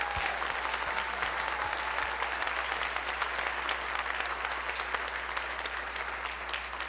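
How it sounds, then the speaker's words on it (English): Concert audience gives a big ovation for a high school wind ensemble at a spring band concert, a dense, even wash of clapping from a large crowd filling the hall, with a low steady hum beneath. "let's give them a big round of applause for their contest"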